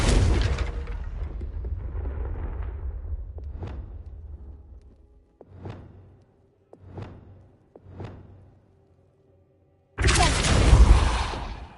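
A Confringo spell explodes in Hogwarts Legacy with a loud fiery blast that fades into a rumbling tail, then several short whooshing pops in quiet, and a second heavy burst of noise near the end.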